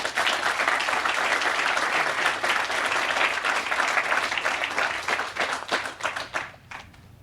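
Applause from a crowd at a college science building groundbreaking ceremony, steady clapping that holds for several seconds, then thins into scattered individual claps before stopping.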